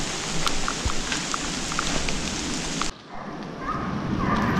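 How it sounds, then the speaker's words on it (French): Steady rain falls in a forest during a driven hunt, a dense close hiss with scattered drop taps that cuts back sharply partway through and then builds again. "la pluie s'est un peu calmée et une nouvelle menée arrive."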